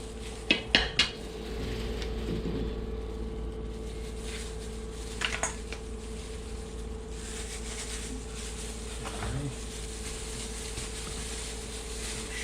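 Egg-soaked bread is mixed in a dish, with a few sharp clinks of a utensil against the dish at the start and again midway. Between them there is quiet soft scraping and squishing over a low steady hum.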